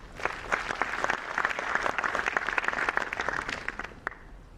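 Crowd at a university event in Kanpur, India applauding a director and his team, many crisp separate claps swelling to a full round before tapering off at the end.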